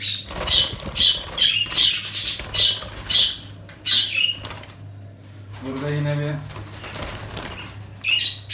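Budgerigars in a home breeding box flap their wings in repeated bursts and let out sharp squawks and chirps, close and loud, with a short stretch of low buzzing and a voice speaking in between.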